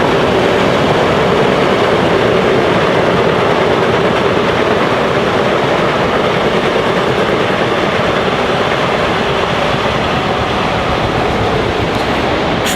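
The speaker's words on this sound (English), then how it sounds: "Hang on, the train is passing." A train rumbles steadily past close by, a loud continuous roar with wheel clatter on the rails holding for the whole stretch without letting up.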